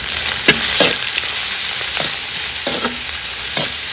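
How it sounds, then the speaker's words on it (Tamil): Onions sauté in a pan for chicken white kurma, a loud, dense sizzle running throughout with periodic scraping strokes of a spatula, close and without voices. "வெங்காயத்தை ரொம்ப நேரம் வதக்காதீங்க"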